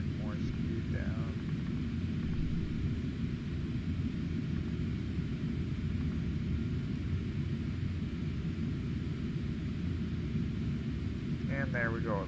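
Steady low engine drone and rumble of a Boeing 747 descending on an ILS approach in Flight Simulator X, a constant cockpit hum throughout, with a few brief tonal chirps near the start and end.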